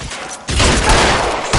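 Rapid gunfire in the video game L.A. Noire: a loud, dense volley of shots that erupts after a short lull and keeps going without a break.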